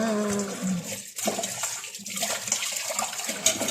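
Fish pieces are rinsed under running water from a tap, a steady close wash of splashing and trickling that fades briefly and resumes over several seconds.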